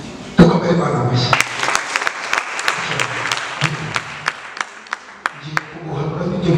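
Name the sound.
congregation applauding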